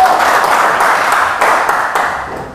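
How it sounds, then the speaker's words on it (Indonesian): A class applauds, a loud, dense clatter of many hands clapping together that fades slightly toward the end, with no talking over it. "Wah, tepuk tangan, bagus sekali."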